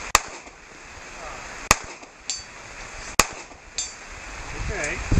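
A Staccato XC pistol fires at a steel target 100 metres away in rain and thunder. Three sharp, loud shots ring out at even spacing over a steady rain hiss, each followed by a faint distant ping of the hit, with brief talking.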